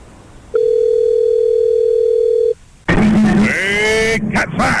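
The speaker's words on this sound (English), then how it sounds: "Let me try to call him." A single steady telephone dial tone sounds loud and clear for about two seconds while a call is being placed, then stops, and a voice begins speaking shortly after.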